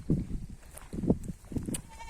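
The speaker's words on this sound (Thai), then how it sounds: "แพะแกะวิ่งมาบางตัวก็กินอิ่มออกไปแล้วนะคะ" On a Thai goat and sheep farm, animals fed on wild lead tree branches let out about three short, nearby bleats in quick succession, with quieter moments between them.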